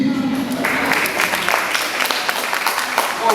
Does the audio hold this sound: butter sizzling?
no